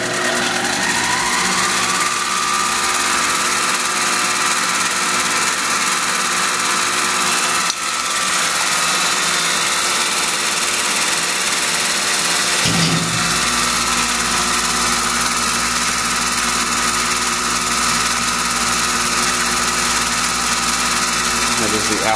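A Tormach PCNC 1100 Duality CNC lathe turns 6061-T6 aluminum at 1000 RPM, feeding about 3.5 inches a minute at a ten-thousandths depth of cut. It makes a steady, loud machine hum and whine that shifts in tone partway through.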